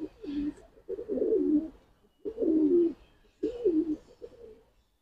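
Giribaj pigeons coo in a loft in Kolkata, three or four close, deep rolling coo phrases separated by short pauses, no talking.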